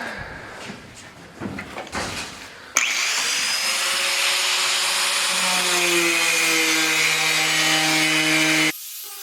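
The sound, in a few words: cutting a hole in a car's hood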